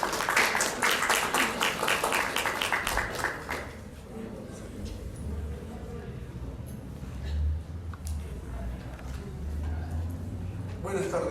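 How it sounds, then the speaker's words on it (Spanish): An audience applauds to welcome Ciro Palacios to a round table on reading comprehension at a book fair: a dense burst of clapping for the first few seconds, then it dies away into a quieter room with low murmuring. "Recibamos a Ciro Palacios con un fuerte aplauso"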